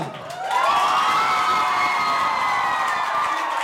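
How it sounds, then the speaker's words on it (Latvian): A large crowd of young festival participants cheers and whoops for the Madona orchestra at an evening youth song and dance celebration, loud sustained shouting rising in the first half-second, with some applause mixed in. "Aplausi Madovas orķestrim, kurš ir labākais Latvijā."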